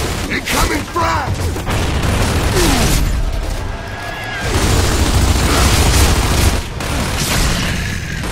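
A frag grenade detonates during a Gears of War 2 firefight, a deep booming blast with a rumbling tail amid gunfire and game noise, with shouted voices in the mix.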